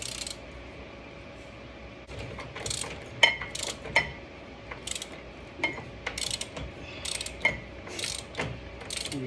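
Ratchet clicking while tightening a 24 mm tie rod nut on a BMW E92 SPL tie rod install, with short bursts of clicks repeating across the clip over a low steady background hum.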